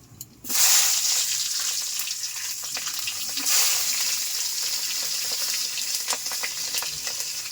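Mustard oil hisses loudly as black cumin seeds and green chilli hit the pan, a sudden burst of sizzling that settles into a steady, close frying crackle with faint pops and no voices.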